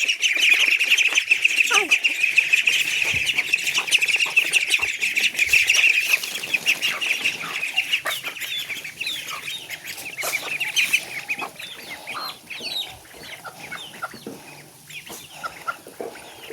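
Continuous high chirping and peeping from ducklings, fairly loud and steady, with scattered clucks and other bird calls around it.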